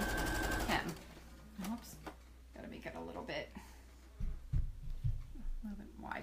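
A sewing machine stitches the hem of a formal dress in short bursts, close and fairly quiet, with a steady low hum underneath.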